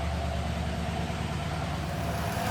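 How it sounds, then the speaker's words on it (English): A 2014 Toyota Tundra engine idles steadily after start-up during radiator and hose replacement, a constant low rumble close to the microphone with no talk, the heater fan running. "I started my engine up and I'm gonna let it burp"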